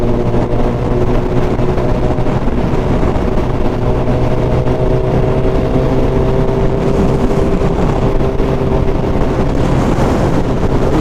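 Suzuki Hayabusa motorcycle at full throttle in sixth gear on a Dubai road at night, a loud sustained engine drone heavily mixed with wind roar, steady and unbroken throughout with no talking.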